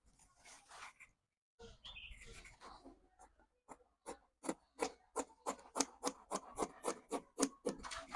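Scissors cut through fabric for a kimono jumpsuit with a rapid run of crisp, regular snips that grow louder and closer, after a short stretch of softer rustling and handling of the cloth.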